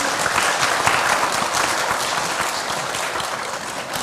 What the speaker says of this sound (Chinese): 让我们热烈掌声欢迎两位老师